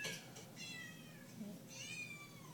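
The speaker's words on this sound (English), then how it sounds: "Those are kittens." Kittens meow repeatedly in a series of thin, high, wavering cries, fairly close and clear over a low background murmur, with no talking.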